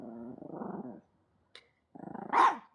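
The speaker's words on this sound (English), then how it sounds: "I don't know if you can you hear him growling?" A dog growls in two low, rumbling bursts separated by a short silence, close and moderately quiet, the second ending in a sharper yelp-like bark.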